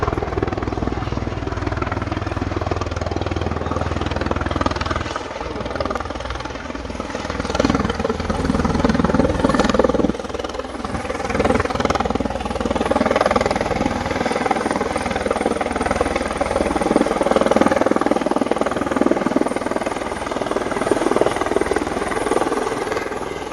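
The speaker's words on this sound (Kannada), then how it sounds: "ಸಾಗರದಲ್ಲಿ ಮಾರಿಕಾಂಬಾ ಜಾತ್ರೆ ಹಿನ್ನೆಲೆಯಲ್ಲಿ ಹೆಲಿ ಟೂರಿಸಂನ ಹೆಸರಿನಲ್ಲಿ ಹೆಲಿಕಾಪ್ಟರ್ ಹಾರಾಟ ನಡೀತಾ ಇದೆ" A helicopter flies for heli tourism during the Marikamba fair at Sagar, over the Gopalagowda turf ground. Its loud, continuous rotor and engine drone stays close and steady throughout, with no talk.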